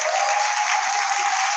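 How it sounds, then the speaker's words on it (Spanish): Brief burst of congregation applause at a Christian church service welcoming a new member, dense and even clapping from a crowd with no talk. "por favor, un aplauso para ella"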